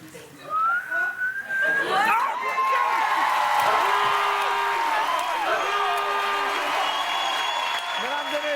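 Audience at an evening improv show bursts into sustained applause with whistles and cheering, loud and continuous, while a host speaks over the crowd.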